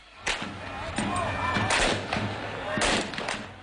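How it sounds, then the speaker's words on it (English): Fireworks are fired over palace walls during a violent street protest in Cairo, giving several loud booming bursts amid a constant noisy crowd roar. "A young man shoots fireworks over the walls of the palace"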